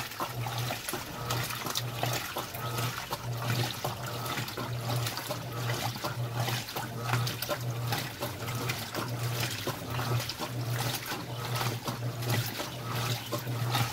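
Water sloshes and churns inside an Electrolux LPR16 washing machine on a quick wash cycle with greasy uniforms, a steady wet swishing with a rhythmic low hum from the motor, continuous and moderately quiet.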